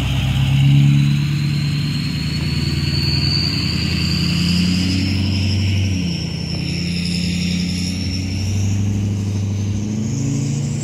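A car rolls through a roadside crime scene with a near, mid-pitched engine rumble that swells and eases steadily over several seconds, with no talking.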